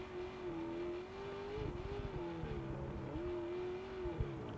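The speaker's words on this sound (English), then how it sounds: "Yeah, you can listen in a little bit to that engine." A trophy truck's engine races during the Baja 500 off-road race, a droning, steady motor hum with slight pitch rises and dips as it works along a rough section, heard at a distance and fairly faint.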